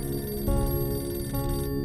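An indoor telephone rings in a household drama scene, giving a steady electronic ring in two short pulses, clear and alone without speech.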